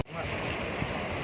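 Strong waves rushing at night on a rocky shore in Batangas, a steady close wash of surf heard alone without a break.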